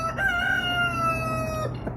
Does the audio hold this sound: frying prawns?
no